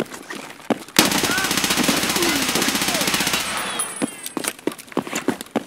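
Video game gunfire as an automatic weapon unloads in a long, loud, continuous burst lasting about three seconds, followed by scattered single shots and clattering, with a voice briefly speaking near the end.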